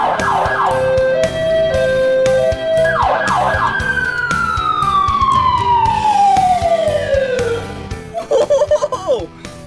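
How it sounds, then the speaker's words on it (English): An ambulance siren wails loudly, with quick rising-and-falling yelps followed by a long, slowly descending sweep, then a few shorter warbles near the end. "If you ever hear that and you're in a vehicle or on the sidewalk, get to the side because the ambulance is going to help someone."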